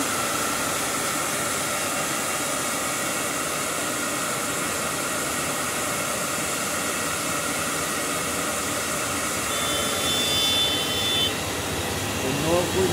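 Continuous whirring drone of an electric motor with a resistor speed control running steadily, a constant broadband hum that barely changes in level throughout.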